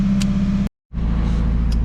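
A Nissan Hardbody pickup truck's engine runs close by as it is driven out, a steady low rumble interrupted by a brief complete dropout before the engine note returns.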